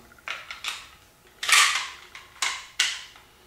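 Metallic clicks and slides as the slide of an XDM pistol is fitted back onto the frame, with about seven sharp, close handling clacks spaced irregularly and no talk over them.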